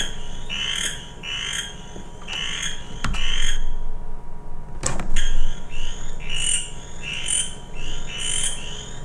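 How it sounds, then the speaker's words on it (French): A played-back recording of a western chorus frog calling: loud, repeated rising pulsed trills in regular bursts, with a short gap midway and a few sharp clicks. "je vais vous faire entendre ici le chant des 2 rainettes faux-grillons, en commençant par la rainette faux-grillon de l'Ouest"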